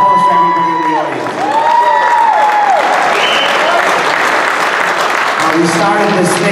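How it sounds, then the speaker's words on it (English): Audience applause at a Gotti film reunion event, loud sustained clapping and cheering from a crowd while a voice keeps talking over it. "So round of applause for everybody in the audience."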